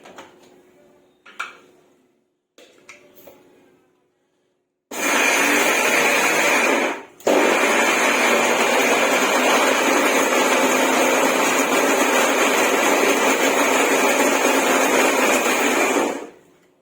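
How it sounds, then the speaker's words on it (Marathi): A mixer grinder grinds soaked rice and dal, cutting in with a loud, steady whine that runs for about ten seconds with one brief pause, after a few soft knocks of the jar being handled. "तर इथे मी तांदूळ घेते मिक्सरच्या भांड्यामध्ये"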